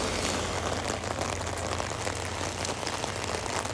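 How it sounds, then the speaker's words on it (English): Heavy rain falls outdoors in a dense, steady hiss of drops on surfaces, loud and close throughout with no voices. "I feel like I'm having trouble like talking over the rain."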